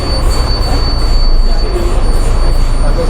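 Steady hiss of air venting from a truck's air compressor system at idle during a pretrip inspection, continuous and fairly loud with a faint high whine throughout.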